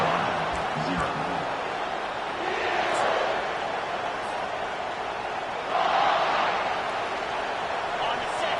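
A stadium crowd roars in the college football video game CFB25 during an Alabama versus North Carolina game, a broad steady din that swells louder at moments beneath continuous commentary.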